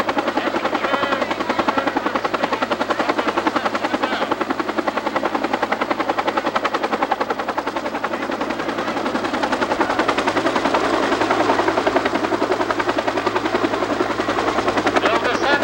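A military helicopter hovers low at the 1990 Westover AFB airshow with troops out on the skids preparing to rope down, its rotor a loud, continuous rapid chopping thump that dominates the scene.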